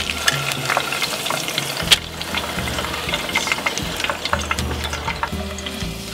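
A batch of cauliflower frying in oil in a pot, a continuous crackling sizzle with scattered pops and a brief stirring clatter near the start, close and steady throughout.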